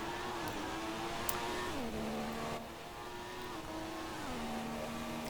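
An F1 race car engine screams steadily through a flying qualifying lap at Italy in the F1 2016 PC game, its high whine dipping and climbing with gear shifts, loud and continuous without any voices.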